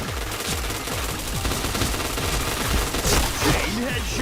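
Rapid automatic gunfire rattles in a shooting video game, dense bursts of repeated shots running continuously and loudly with brief shifts in rhythm.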